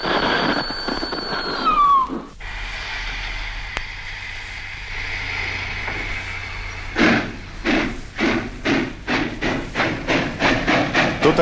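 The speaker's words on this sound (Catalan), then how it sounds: "Després d'haver dit això, Mr. Phileas Fogg esperà que el tren arrenqués." A train whistle sounds, then a long hiss of steam, followed by rhythmic chuffing that begins slowly and quickens as the engine pulls away.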